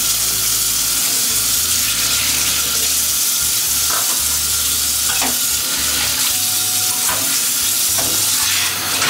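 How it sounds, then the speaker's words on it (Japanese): A frying pan is left soaking under running water at a kitchen sink, a steady hiss of tap water with light sizzling and splashing, plus a few clinks of the pan, close and alone. "だからフライパンはもう水につけておきますわ"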